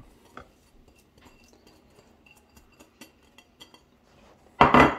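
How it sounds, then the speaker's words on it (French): Apple pieces being mixed in a bowl for a creamy apple tart: faint scattered clinks and taps of a utensil, then a loud burst of scraping and clattering at the very end. "Voilà, on mélange les pommes."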